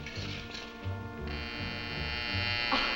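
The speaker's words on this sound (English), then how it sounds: "Oh, my silly alarm watch." An alarm watch goes off in an old TV episode, a faint buzzing electronic tone that steps up into a sustained high whine partway through, with a low hum beneath.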